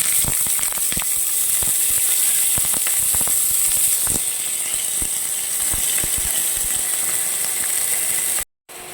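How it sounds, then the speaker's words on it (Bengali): Prawns hit hot oil in a wok with a loud, steady sizzle and crackle that lasts throughout. Pops and spits break through it, with a brief dropout near the end, and no one speaks. "দেখো কড়াইয়ে তেল গরম হয়ে গেছে, এবার আমি চিংড়ি মাছগুলো দিয়ে দেব।"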